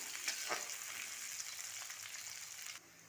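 Onions frying in a large amount of hot oil for a vegetable curry, giving a steady close sizzle with a few brief stirring scrapes, then the hiss cuts down sharply near the end.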